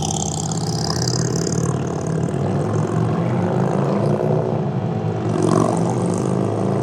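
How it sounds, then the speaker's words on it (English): A scooter's exhaust gives a deep, mellow engine drone at a steady idle, close by and continuous, with a faint swell in loudness near the end. "Man, the exhaust on that sounds really good. It's not harsh at all. It's very deep and mellow."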